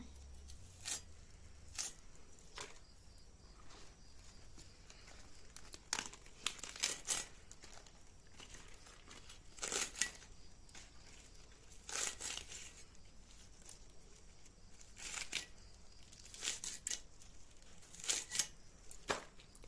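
Bottle gourd leaves being cut for a potato recipe, heard as irregular crisp crinkling and snipping bursts, close and moderately loud over a quiet background, with no talking.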